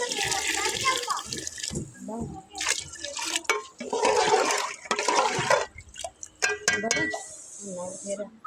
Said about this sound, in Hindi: पानी जो है वो शामिल करेंगे।